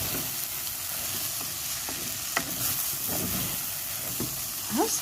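Rice and onion sauté in a pan, a soft, steady sizzle broken by repeated scraping stirs of a spoon against the pan, close and fairly quiet, with no talking.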